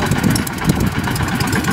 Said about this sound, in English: that's the sound of a 360 horsepower Rolls-Royce Eagle 8